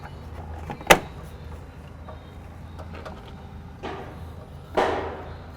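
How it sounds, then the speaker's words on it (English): A door going back onto a 2007–2018 Mercedes van after a fuel tank install: a sharp metallic clunk early on, then two softer sliding, rolling sweeps, over steady low background noise. "Now we'll be reinstalling this door."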